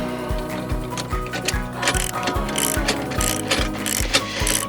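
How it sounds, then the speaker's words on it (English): Rapid ratchet clicks sound as bolts are tightened on a GripSport GS2+ bike rack, close and loud, with regular thumping strokes keeping a steady rhythm throughout. "We do these bolts up."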